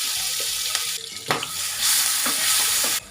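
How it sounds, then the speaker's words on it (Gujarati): Cumin and asafoetida tempering sizzles steadily in hot oil with a bright crackling hiss, and a few utensil clinks and stirring knocks sound close by. "જીરાનો વઘાર કરીશું. તેલ નાખીશું"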